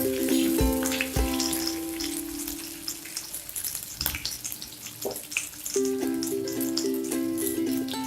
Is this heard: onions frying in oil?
yes